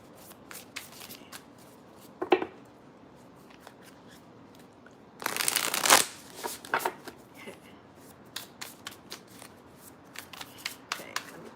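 Tarot cards from The Light Seer's Tarot deck are shuffled by hand in short riffling bursts, with one long loud flurry in the middle and scattered lighter taps and slides of card stock, close and without talking.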